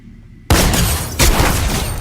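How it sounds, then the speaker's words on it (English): A combat shotgun in a video game fires two loud, booming blasts about three-quarters of a second apart, each with a heavy close-up report followed by a brief rumbling tail. "We're gonna push these guys with this shotgun."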